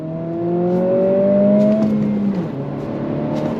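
A 2025 Acura Integra A-Spec with a six-speed manual pulls hard in second gear, its engine note climbing steadily and loudly up the revs, then dropping at a shift before building again, heard clearly with no talking.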